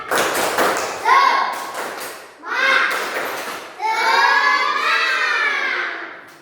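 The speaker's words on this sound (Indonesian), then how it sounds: "Kita tepuk semangat." Children clap in bursts of quick, rhythmic patterns, with young voices chanting along between and over the claps.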